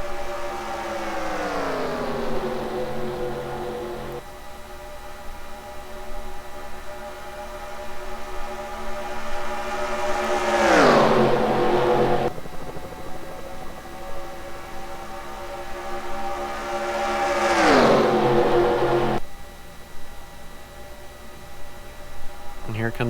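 Race cars in the Kroger National Series Duels at Daytona roar past with a continuous engine drone. Two cars sweep by with sharp rising-then-falling pitch passes, under steady race commentary.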